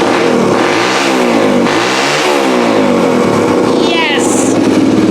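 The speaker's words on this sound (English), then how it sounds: "We got the Suzuki fixed!" Repaired Suzuki engine revving loudly and close, rising and falling in two strong swells before settling to a steadier run, with a brief high whine near the end.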